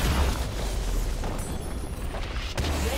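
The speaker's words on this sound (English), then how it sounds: "Red team's turret has been destroyed." A turret blows up in a League of Legends match, a dense, rumbling explosion that fills the moment alone, with no talk over it.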